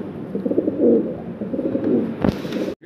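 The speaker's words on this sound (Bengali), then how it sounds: "আমরা আরও এক জোড়া জার্মান বিউটি হোমা কবুতর দেখতে পারতেছি।" German Beauty Homer fancy pigeons coo at a farm, soft rolling low coos close by, repeated several times with a brief rustle near the end.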